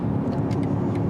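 A car engine roars steadily at a drag race event in Ventspils with boost switched on, a loud sustained low rumble close by without talk.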